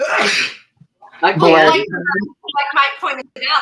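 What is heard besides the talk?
sneeze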